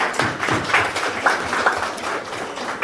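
An audience at a health launch event applauds, a continuous wash of clapping from a crowd, moderately loud and even, with scattered sharper claps standing out.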